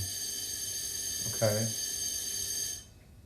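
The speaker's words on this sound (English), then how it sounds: "That's a fire alarm." A high-pitched electronic alarm drones continuously, with a brief voice in the middle, then cuts off abruptly near the end.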